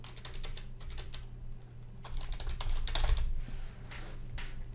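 Keys clatter on a computer keyboard in quick irregular bursts, close and fairly soft, with short pauses between runs over a low steady background hum.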